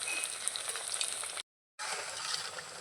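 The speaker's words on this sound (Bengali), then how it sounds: "ফোটানো হয়ে গেছে এবারে ভালো করে ভেজে নেব উল্টে পাল্টে" Sago pakoras frying in hot oil while being turned, a steady bright sizzle that cuts out briefly in the middle and then resumes at the same level, with no talking.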